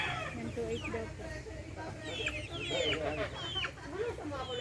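Heritage hens and a rooster clucking and chattering together on a farm, a busy overlapping mix of calls up close and steady throughout, with people talking in the background.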